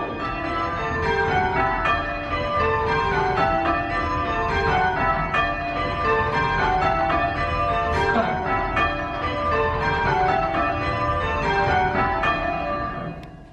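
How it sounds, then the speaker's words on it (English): Church tower bells ring changes in continuous overlapping peals, a steady dense cascade of struck tones at full volume throughout, with no voices. "Just before the bells get back to rounds, the conductor will say "that's all" as a warning that we're done."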